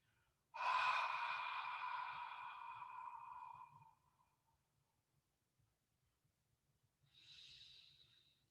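A long, slow, hissing ocean-like ujjayi yoga exhale through a constricted throat, followed after a pause by a shorter, softer breath.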